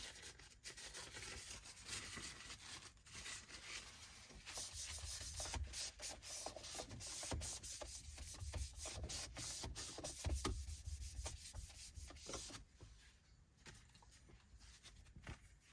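A prep wipe rubs steadily across the surface of a C7 Corvette, making a close, continuous scrubbing swish that grows a little louder in the middle and then eases off.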